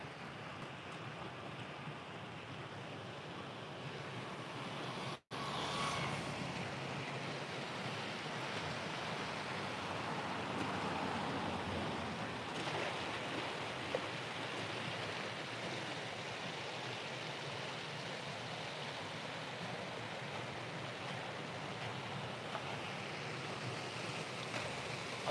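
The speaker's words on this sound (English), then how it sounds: "Look at that water falling down." Steady rushing water pours down an irrigation channel at the Nakayama terraced rice fields on Shodoshima, Japan, a broad even roar that holds at the same level throughout with no voices.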